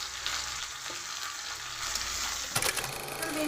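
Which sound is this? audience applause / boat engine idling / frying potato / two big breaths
frying potato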